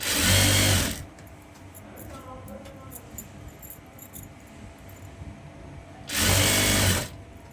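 A sewing machine stitches the belt of a shalwar in two short, loud whirring runs at the start and end, with quiet handling noise between them.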